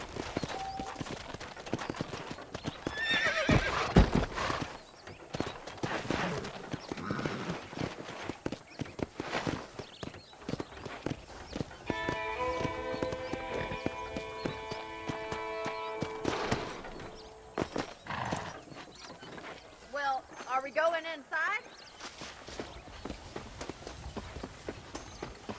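Horse hooves in the Red Dead Redemption game clip-clop and thud in uneven runs at moderate distance, with a brief whinny and other faint ambient game sounds, no speech.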